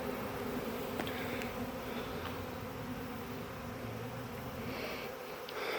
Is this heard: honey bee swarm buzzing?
yes